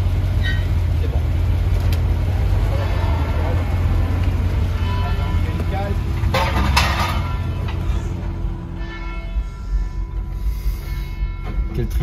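A Mercedes CLK creeps up onto a flatbed truck's deck, making a low, steady engine rumble with faint mechanical clunks. It is fairly close and fades slightly toward the end, with a voice briefly heard.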